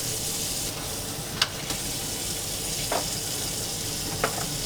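Meat for a lasagne ragu sizzles steadily in a crowded pan, a close, even frying hiss with a few faint clinks and stirring scrapes.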